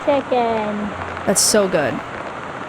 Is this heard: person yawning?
no